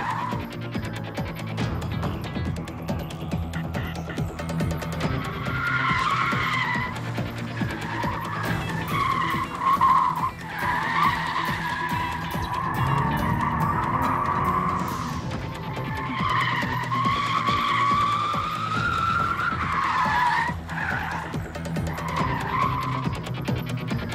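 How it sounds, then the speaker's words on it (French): A Subaru BRZ drifts with long, sustained tire squeals rising and falling over a loud engine roar, continuous for the whole stretch. "Il fait virevolter la Subaru BRZ de la plus belle des façons."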